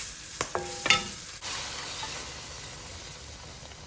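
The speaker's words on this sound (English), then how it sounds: "I'm going to add the coconut milk first" Coconut milk is poured into a pan of prawns and vegetables for a quick Thai prawn curry, giving a soft, steady sizzle with a few stirring clinks near the start, after which it settles into a low simmering hiss.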